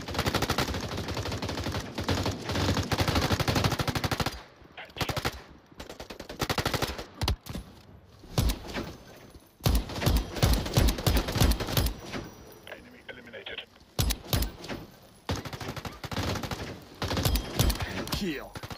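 Rapid bursts of gunfire from a mobile military shooter game crackle loudly and densely, with short pauses between volleys and heavier automatic fire in the second half.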